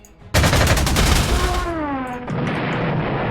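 Loud anti-aircraft gunfire shooting down aircraft in the Panzer Corps 2 war game, a sudden rapid burst that rolls into a sustained roar and then settles into a steady rumbling tail.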